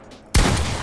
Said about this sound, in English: I'm gonna actually grab my pump, and I'm just gonna shoot.